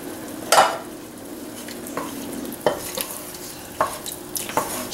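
A 15-ounce can of tomato sauce being stirred into a pot of chili with beans, a low simmering hiss with several sharp spoon scrapes and knocks against the pot at irregular intervals.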